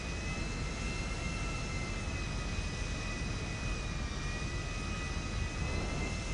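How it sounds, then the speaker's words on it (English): Jet airliner taxiing toward a distant runway, a continuous muffled engine roar with a faint steady whine on top and no voices. "Ladies and gentlemen, this is your captain speaking. We will be taking the far runway."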